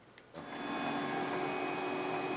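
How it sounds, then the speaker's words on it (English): An inkjet or laser printer in a closet printing pages, a steady mechanical whirring hum with faint tonal whine that starts abruptly after a short click and runs on continuously, close and fairly loud. "sends it over to my trusty printer, which is over here in the closet"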